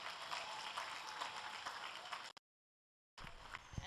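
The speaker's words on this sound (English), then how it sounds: "Shall we give all of them a hand of applause?" Sustained applause from a crowd, a dense wash of clapping that cuts out abruptly for a moment of silence, then resumes.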